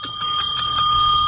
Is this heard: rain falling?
no